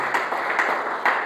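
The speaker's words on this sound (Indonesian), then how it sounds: "Beri tepuk tangan bagi Tuhan Yesus." Congregation clapping together during a church service, a steady dense wash of applause with no voices over it.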